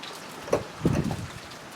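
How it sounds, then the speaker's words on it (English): Rain falls outdoors with a soft, steady patter, broken by a few sharper drops and knocks that stand out briefly against the wet background hiss. "felt like doing one out here in the rain while I had time"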